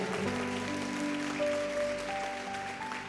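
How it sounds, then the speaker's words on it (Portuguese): A church congregation at an evening communion service claps steadily for about three seconds, a dense even patter running throughout beneath sustained keyboard chords. "Você pode aplaudir o Senhor?"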